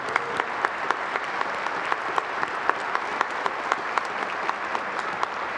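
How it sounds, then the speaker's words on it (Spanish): A church congregation applauds at a choral Mass for a priest's 25th anniversary of ordination, with sustained even clapping and a few sharper individual claps standing out in a reverberant space. "le damos un aplauso"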